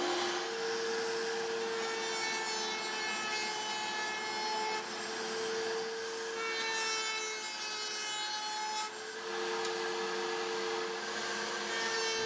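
A router cuts wooden dowels in a woodworking shop with a loud, steady high-pitched whine and rasping cut noise, briefly dipping in pitch and level between passes.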